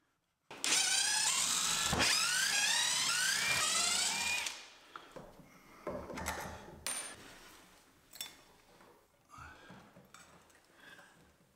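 Screws holding taps in place are removed, beginning with a bright, whining power driver spin that sweeps up and down for several seconds, followed by scattered metallic clinks and handling knocks at close range.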